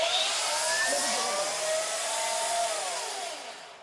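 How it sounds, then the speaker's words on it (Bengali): A concrete wall cutter machine runs steadily with a loud, continuous high-pitched whir and grinding, holding near-constant intensity before easing slightly toward the end. "তো মেশিনটা আমি আরেকবার চালাই দেখাই ভিউয়ার্স"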